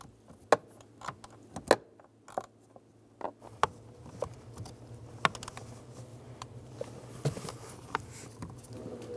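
A socket or ratchet works loose the bolts on the blower motor module of a 2003-2008 Honda Pilot, with a series of close, irregular small clicks and metallic ticks over a low steady hum, no talk.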